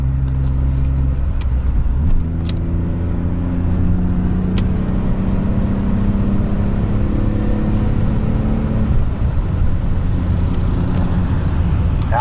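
Six-cylinder Buick car engine revving, heard loud and close as a steady droning hum whose pitch climbs in smooth rising sweeps, settles, and climbs again, with no voices.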